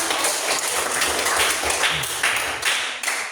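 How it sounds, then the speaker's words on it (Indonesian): A class of schoolchildren claps hands together after roll call, a steady patter of many close claps with a few louder individual slaps, fairly loud throughout. "tepuk tangan dulu"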